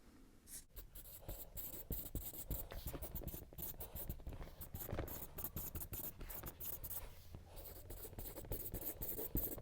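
A pen writes steadily on paper while a game review is drafted. The scratchy strokes and small taps are faint and continuous, with no talking.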